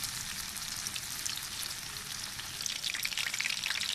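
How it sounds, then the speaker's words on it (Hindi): Chicken pieces frying in hot ghee in a pan over low heat, giving a steady, dense sizzle and crackle with no break, close and moderately loud throughout. "इसे हम 10 मिनट एक साइड से फ्राई करेंगे और 10 मिनट अगली साइड से फ्राई करेंगे।"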